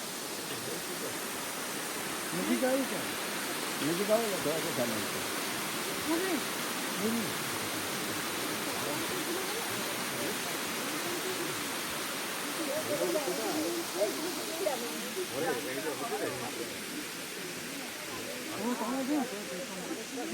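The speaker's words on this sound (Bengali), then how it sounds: "শুনতে পাচ্ছেন অবিরাম ধারায় বয়ে যাওয়া ঝর্ণার জলের সুন্দর একটা আওয়াজ।" Elephant Falls in Shillong, Meghalaya pours in a continuous broad rushing hiss, an even steady roar of falling water that fills the whole stretch, heard from fairly close with faint outdoor sounds mixed in.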